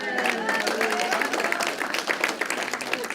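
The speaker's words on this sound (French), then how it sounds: "vous pouvez l'applaudir" A congregation applauds during a church sermon, hands clapping in a busy burst while voices and some tonal singing or cheering sound through the clapping.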